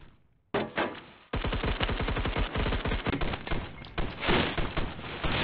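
Rapid automatic gunfire in the Roblox shooter Phantom Forces: a short burst, a pause, then long sustained volleys of sharp repeated shots, loud and close, with no voices.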